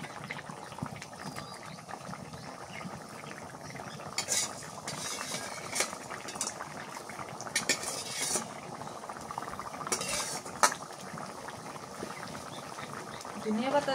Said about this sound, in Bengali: এবার ভাজা মাছ দিয়ে দিই।